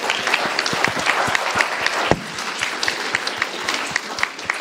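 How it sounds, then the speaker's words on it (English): A lecture audience applauds for Esther: dense, continuous clapping from many hands, loud and steady throughout with a few sharper individual claps standing out. "Everybody, clap for Esther."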